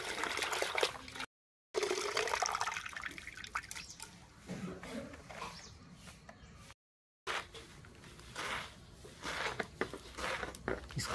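Bottle gourd leaves are washed in a vessel of water in a village kitchen, giving intermittent splashing and dripping with short pauses between bursts and brief voices in the background.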